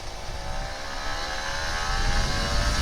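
Kawasaki Ninja RR 150 motorcycle with a new cylinder block, its two-stroke engine revving steadily and building slightly louder, heard close up with no talk.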